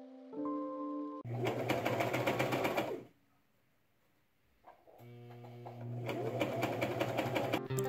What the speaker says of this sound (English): I sewed the collar to the bodice by machine.